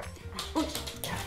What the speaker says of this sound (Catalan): el meu gos